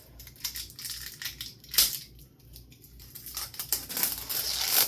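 Hampton Bay Glendale ceiling fan blades are unwrapped from their packaging, with close crinkling, crunching plastic and paper that swells and fades in irregular bursts, growing louder toward the end.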